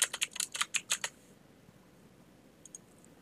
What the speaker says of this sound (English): I'm just going to paste this directly from the keyboard